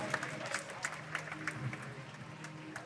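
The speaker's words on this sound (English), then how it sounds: "And a big cheer for Yiheng Wang." Crowd at the 2023 Rubik's WCA World Championship cheering and applauding, a fairly faint spread of claps and whoops with a few sharper bursts, thinning slightly toward the end.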